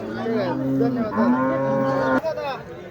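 A cow moos in a long, low, drawn-out call, fairly close and loud, with a brief break near the end, at a cattle market.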